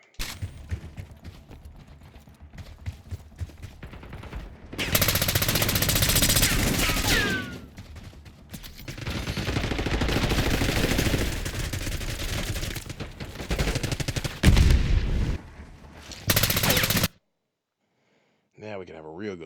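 Automatic gunfire with tracer rounds in Call of Duty: Black Ops 6 comes as long, loud sustained bursts separated by short pauses. The firing cuts off abruptly near the end, leaving a moment of silence before a brief voice.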